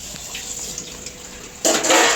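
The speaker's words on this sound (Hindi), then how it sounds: "तुम बर्तन क्यों धो रही हो?" Dishes are washed in a home kitchen, with soft clinks and rubbing followed by a sudden loud gush of running tap water near the end.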